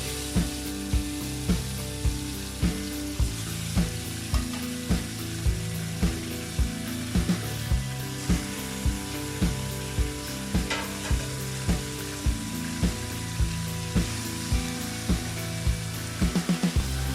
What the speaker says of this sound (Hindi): चिकन ऐड करेंगे।